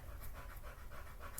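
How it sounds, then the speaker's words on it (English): Quiet, steady panting from a dog, a run of fast breathy huffs close by at a low level. "I'm sorry if you hear massive panting."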